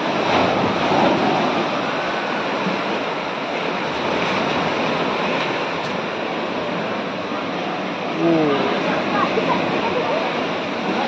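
Sea waves wash up on Devghali beach in a continuous, full roar of surf that swells slightly at moments. A faint voice is briefly audible beneath it.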